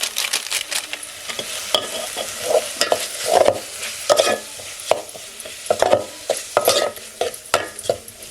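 Spice tempering with chicken masala fries in a pan over a wood-fired stove, with repeated spatula scrapes and clanks over a steady sizzle, close and fairly loud.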